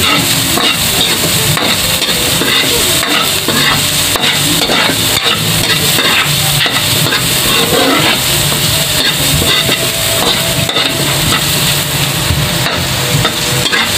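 Carrots cooking in a hot pan give a steady, loud sizzle and frying hiss with stirring scrapes, continuous and close, with no voices.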